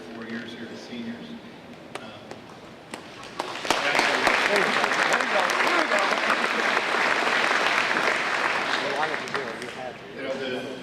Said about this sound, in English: they are owed a very big applause for what they've done